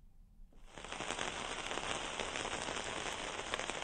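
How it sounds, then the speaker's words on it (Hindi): Heavy rain pours down in Haridwar, a dense, steady roar of drops on surfaces that swells in after a brief quiet start and keeps going strong, with scattered sharper splats and no voices. "बारिश इस वक्त हरिद्वार में भी जारी है और देर रात से यहाँ पर तेज बारिश हो रही है"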